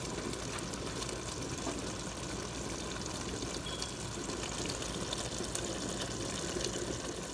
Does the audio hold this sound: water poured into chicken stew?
yes